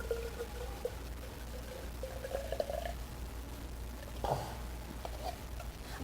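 Liquid tube feed for an emaciated young marine mammal with pneumonia is poured into a container at a rescue center: a soft, low trickle with a brief splashy burst partway through, faint and steady.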